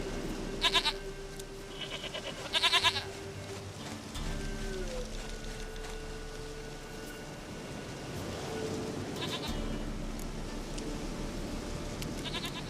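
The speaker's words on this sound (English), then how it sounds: "Goat of mine, dearest, sweetest goat." Goats bleat in the video game The Witcher 3, with two short, sharp bleats early on over a soft, continuous background of rain and low ambient rumble.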